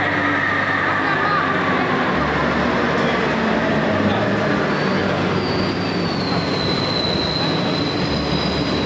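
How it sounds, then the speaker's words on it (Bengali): A metro train pulling into a station in Kolkata, loud rumbling wheels on rails with a rising metallic squeal as it slows, close by and continuous. "এই যে মেট্রো চলে এসছে"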